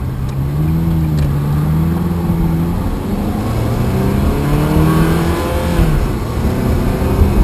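A Ferrari 360 Spider engine rumbles steadily from inside the cabin, revs climbing and easing in smooth waves, loud and continuous without talk.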